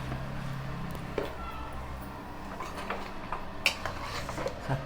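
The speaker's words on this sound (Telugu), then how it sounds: "చక్కగా మళ్ళీ కలుపుకోవాలి." Spices being stirred into mutton curry in a home kitchen pot, soft scraping and light utensil clinks against the metal, with a couple of sharper taps near the end over steady low background noise.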